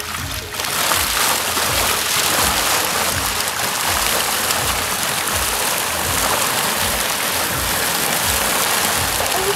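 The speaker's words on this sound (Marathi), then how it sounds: "आपल्याकडे एकच आहे पाऊस पाऊस" Heavy rain falling on a fishing boat at sea, a steady loud hiss of drops drumming on the deck with no pauses, filling the whole stretch.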